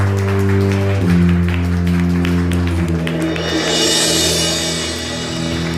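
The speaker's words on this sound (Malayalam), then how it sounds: "put your hands together" At a Malayalam Mappilappattu stage show award ceremony, an audience claps under sustained musical tones and a low hum, the applause swelling into a bright, dense wash toward the end.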